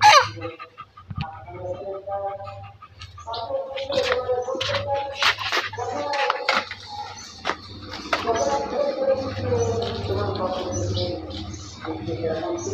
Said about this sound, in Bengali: তোমার মুরগি